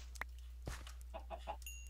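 A Minecraft chicken in a roofed forest gives a few short, quiet clucks spread across under two seconds, with a faint low hum underneath and no talking.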